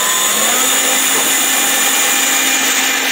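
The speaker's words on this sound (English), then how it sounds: "we're just going to drill through the headliner" A loud, continuous high-pitched whine of an electric drill boring a 6mm hole through a Land Rover Defender's headliner, steady throughout with a slight pitch dip early on.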